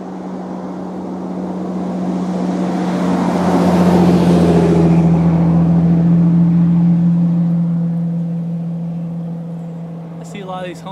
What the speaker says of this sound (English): here goes another car.